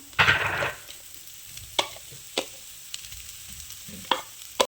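Grated coconut is sautéed and stirred in a pan for a stuffed squid dish. A short burst of scraping sizzle is followed by scattered sharp knocks of a spoon against the pan, heard nearby.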